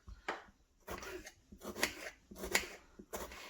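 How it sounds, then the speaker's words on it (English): Knife cutting deseeded tomatoes into chunks on a board, a series of soft, close, rhythmic chops and thuds, about five strokes spaced roughly half a second apart. "So we're just gonna cut these into chunks real quick."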